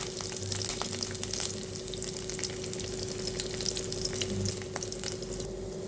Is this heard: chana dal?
yes